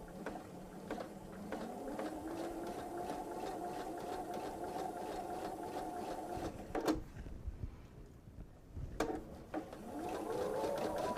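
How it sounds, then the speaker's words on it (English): A sewing machine stitches a bench pillow with a steady, even mechanical whir. The motor stops for about two seconds with a few clicks, then starts running again, heard close up with no talking. "And I'm sewing out further than I need to."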